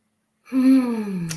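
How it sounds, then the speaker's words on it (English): A single slow, deep breath, drawn in audibly and then let out in a long, steady exhale during a quiet guided prayer and meditation, close and alone with no talking. "let's take that breath right now and settle down"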